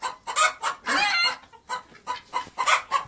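Roosters and hens on a rooftop give short bursts of loud clucking and squawking close by, in an uneven rhythm with brief quiet gaps between calls.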